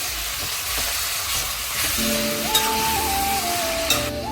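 Chicken pieces dropped into a pan of fenugreek leaf curry, giving a steady frying sizzle with a faint tonal whine partway through and a couple of small clinks, no talk.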